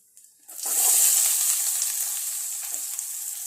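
Onions dropped into a hot pan to sauté for rasam burst into a loud, close sizzle after a brief quiet moment, then settle into a steady frying hiss.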